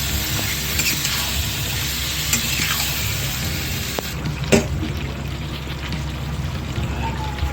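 Spice water is poured into a pot of chicken cooked with curd, giving a steady hiss of sizzling and liquid with a few light clinks from the pot, all close and continuous.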